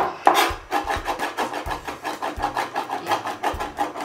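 Steady rhythmic chopping of fresh parsley with a mezzaluna half-moon knife for spaghetti puttanesca, a rocking, scraping blade striking the cutting board in quick repeated strokes, close and clear with no talking.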